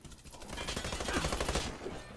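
Rapid automatic fire from a TEC 9 submachine gun in the shooter game Warface, a dense, loud burst of closely spaced shots lasting nearly two seconds before cutting off.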